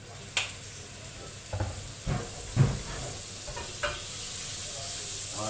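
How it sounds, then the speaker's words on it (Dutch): Butter sizzles in a frying pan during home cooking, a steady soft hiss broken by a few sharp clatters and knocks of utensils and pan, close by. "Boter in de pan."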